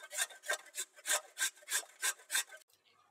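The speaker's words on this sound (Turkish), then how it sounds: "Şimdi önce bir adet soyduğumuz ve yıkadığımız patatesi rendeleyerek başlıyoruz." A peeled, washed potato is grated on the large side of a grater in about eight rhythmic, rasping strokes, close and crisp. Silence follows once the grating stops.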